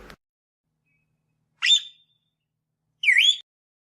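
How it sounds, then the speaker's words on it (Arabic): Two short, sharp parrot calls, separated by silence, each a quick whistled squawk heard up close and alone. "بغبغاء"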